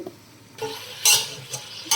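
Meat pieces for mutton paya soup sizzle in a pan while being stirred, with short bursts of scraping and a loud sizzling swell near the middle, close and brief, no talking.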